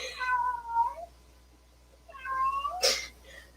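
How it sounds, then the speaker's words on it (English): A pet cat meows near the microphone during a yoga session, two long warbling calls separated by a short pause, the second ending in a sharp sneeze-like snort, in an otherwise quiet room. "It's always entertaining doing yoga with some cats."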